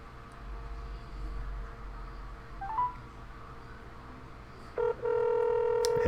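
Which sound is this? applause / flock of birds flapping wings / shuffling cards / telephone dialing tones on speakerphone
telephone dialing tones on speakerphone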